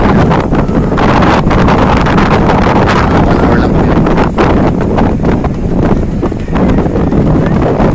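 Strong wind buffets the microphone continuously in a thick fog outdoors in Davao, a loud, steady roar with gusty surges and no talk over it.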